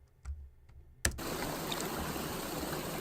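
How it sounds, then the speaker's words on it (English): Water from a pool waterfall rushes in a steady, even wash that starts abruptly after a second of near silence with a few faint ticks. "Pool Waterfall Enhanced 1."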